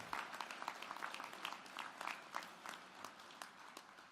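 An audience at an awards ceremony gives a round of applause, a continuous patter of many hands clapping with distinct individual claps standing out, faint and distant, with no speech over it.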